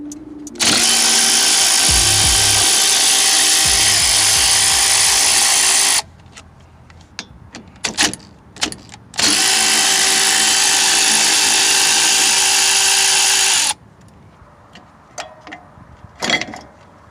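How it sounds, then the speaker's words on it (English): Power tool spinning a 19mm socket to remove lug nuts on a Jeep Commander during wheel speed sensor work: two sustained, loud whirring bursts of several seconds each, separated by brief clanks and handling noises, with no talking. "I'm using a 19mm socket to remove the lug nuts"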